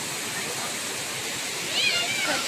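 Continuous roar of a forest waterfall, a broad, even rush of falling water, with a brief high-pitched squeal near the end.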